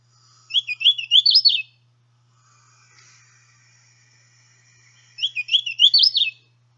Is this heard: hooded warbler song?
yes